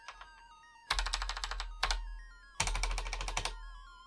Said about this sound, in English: we can actually type in chain to load and run the program in one go, or we can type in ch dot